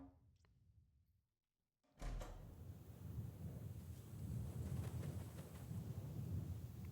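A door swings open in the video game Lone Pine, a sudden loud burst of wind and rumbling outdoor air rushing in after a brief silence and continuing steadily.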